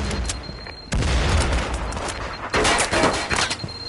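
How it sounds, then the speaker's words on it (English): A grenade blasts amid rapid gunfire in a Firewall Zero Hour match, with loud booms near one and two and a half seconds over a constant crackle of shots. "Grenade."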